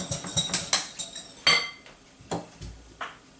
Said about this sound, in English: Give this a little whisk.